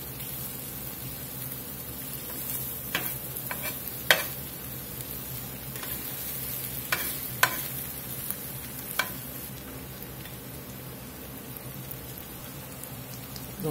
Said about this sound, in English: Just about 3 tablespoons of butter in here.